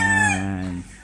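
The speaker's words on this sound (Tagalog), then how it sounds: "ito po yung manok po na sinasabi ko po sa inyo" A single rooster gives a loud, close, drawn-out call that fades away within about a second.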